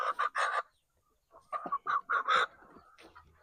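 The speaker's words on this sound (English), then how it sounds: "The chicken was trying to escape." Backyard chickens cluck in short, close bursts, a quick run of clucks followed by a pause and then a longer, louder series of clucks.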